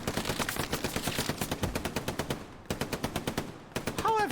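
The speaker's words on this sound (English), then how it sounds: "How are you not hitting that MG, Rodin?" Machine gun fire in the Hell Let Loose video game, rapid rhythmic bursts of loud automatic shots with a brief pause between strings.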